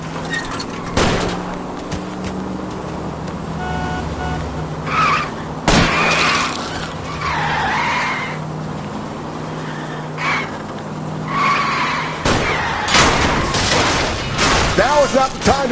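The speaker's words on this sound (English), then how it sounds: "I'll try to shoot out his tires." Gunfire aimed at a fleeing car's tires during a rain-slicked car chase in L.A. Noire, sharp shots cracking out over engine roar and tire skids, with bursts of broadband impact noise and a voice talking in the background.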